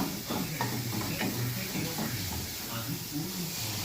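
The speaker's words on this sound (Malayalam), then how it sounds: "വെള്ളമൊഴിച്ച് ഇങ്ങനെ തളിച്ച് വരുമ്പോൾ" Water hisses and sizzles loudly as it is sprinkled into a hot pan while making prawn upma, a broad steady spitting sound, with a voice speaking over it.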